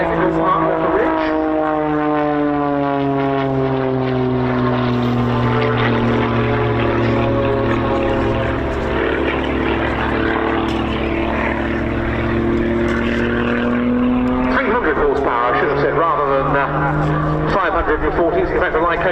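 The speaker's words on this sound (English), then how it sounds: "It's in fact a Lycoming IO540 engine." A display aircraft powered by a Lycoming IO540 engine roars loudly and continuously at an air show, its droning pitch sliding gradually as it passes, with a voice talking over it.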